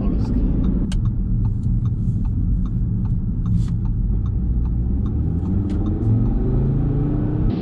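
An Audi RS3 with a five-cylinder engine cruises fast on a German autobahn, heard from inside as a loud, steady engine drone and road rumble with someone speaking over it.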